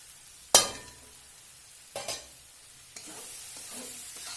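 Potato and okra frying with chili, turmeric, coriander powder and salt in a pan, a sharp clink of a spoon followed by stirring scrapes and a soft steady sizzle, close and fairly quiet.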